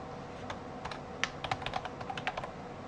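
Someone types on a computer keyboard while entering a network gateway address on a Cisco router console, about a dozen quiet close key clicks in an irregular burst, no talking.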